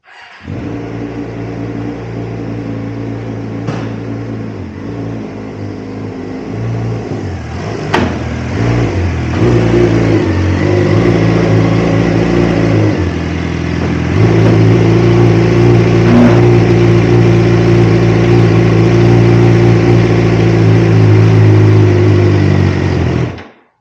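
A motorcycle engine idles and then revs up as the bike climbs one ramp, then a second, onto a rack on a campervan. The close, loud engine rises and falls in pitch, with a few knocks from the ramps.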